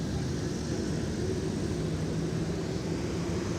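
An airplane taxis along taxiway Mike at Minneapolis–St. Paul airport, its engines giving a steady, distant, fairly faint hum with a low rumble beneath.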